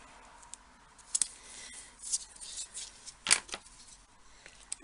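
Scissors snipping through card while building an A2-size pop-up box card, a few quiet crisp cuts and clicks spread across the clip over faint background hiss.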